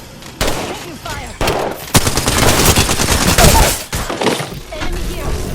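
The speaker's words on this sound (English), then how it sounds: "Taking fire!" Automatic gunfire and bursts of shots in the Apex Legends video game, loud, dense and sustained, with brief gaps around the one- and four-second marks.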